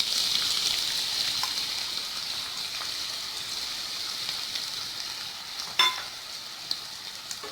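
Onion and green chili sizzling in hot oil, a loud continuous hiss and crackle like light rain close by, with one brief knock near the end and no talking.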